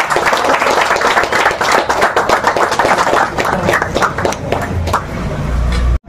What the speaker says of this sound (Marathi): एकदा जोरदार सरण टाळ्या